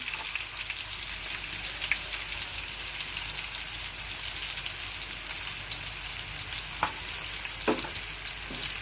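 Bitter gourd and tomato curry cooking down in a pan, giving a steady close hiss of simmering and frying with a few faint stirring clicks, alone without talk.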